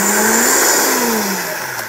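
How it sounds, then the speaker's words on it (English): A blender whirs loudly and steadily as it mixes olive oil and salt, its motor pitch rising and then easing slightly, close up and alone. "Then blend that a little bit."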